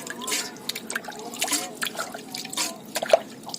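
Water trickles and drips in short, uneven bursts, fairly close and soft, with brief pauses between splashes, as about 200 ml of water is poured for cooking jackfruit seed curry.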